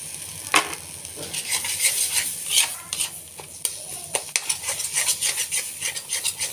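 Beaten egg with onion and green chili being stirred in a pan, a spatula scraping and clinking against metal in irregular strokes over a soft sizzle, close and clear.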